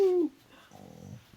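A dog lets out a short, high, nasal whimper at the start, followed by softer, breathy whining and faint snuffling noises, close and quiet indoors.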